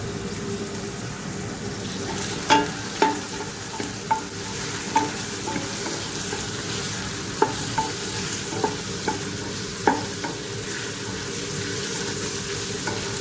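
Butter sizzles and fries in a pot for Arabic-style mutton biryani, a steady soft crackle beneath a series of light clinks and scrapes from stirring.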